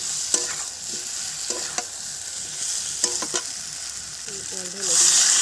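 Potatoes are stirred into a tomato masala frying in a pan: a steady close sizzle broken by repeated scraping stirs, with a brief voice near the end.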